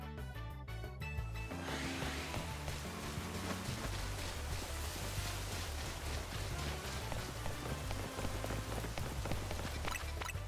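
Rain in the video game Pokemon Legends ZA falls steadily, a dense, continuous patter on surfaces that stays even and moderately quiet after a brief distorted burst at the start.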